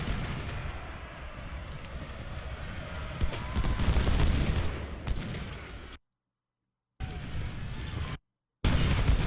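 Artillery and rifle fire in the Ultimate General: Civil War video game, a dense rolling clatter of shots and booms swelling midway, then cut by two abrupt silences before resuming.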